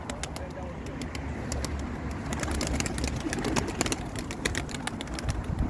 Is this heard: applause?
no